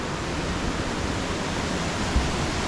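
Twin Falls, a waterfall with a siltstone lip in the Pennsylvania backwoods, roars as a steady, dense rush of falling water, loud and unbroken throughout.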